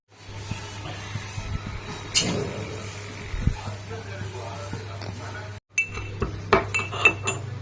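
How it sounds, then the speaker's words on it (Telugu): Cardamom pods are pounded for sugar syrup, giving scattered knocks and metallic clinks over a steady low kitchen hum, with a short break before a faster burst of pounding. "ఇలాచి ఇలా దంచుకొని పాకంలో వేసుకోవాలి."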